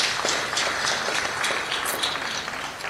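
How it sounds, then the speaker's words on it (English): Audience at a public service award launch event giving a short, brisk round of applause, a close, dense burst of clapping lasting about three seconds. "you should give yourself a round of applause for that."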